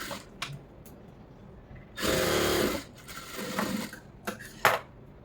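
A sewing machine stitching a lined blouse, running in short bursts of quick mechanical whirring separated by pauses and light clicks.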